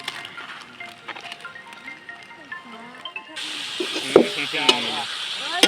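Meat fries in a pan with spices such as cumin and meat masala. A person talks at first, then a loud, steady sizzle starts partway through and continues with crackling pops.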